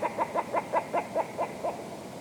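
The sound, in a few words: red grouse calling go back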